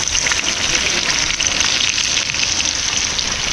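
Butter sizzles steadily in a hot pan in an outdoor Filipino cooking setting, a dense continuous crackle close by and fairly loud with no gaps.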